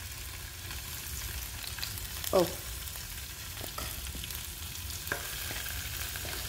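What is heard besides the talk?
tofu frying in oil in pan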